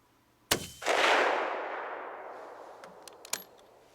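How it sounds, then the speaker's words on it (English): A single sharp rifle shot with Berger hollow-point handloads fired from a sitting position outdoors, a loud crack followed by a long rolling echo that fades, then a few faint clicks. "Sit and fire 3 rounds into that target."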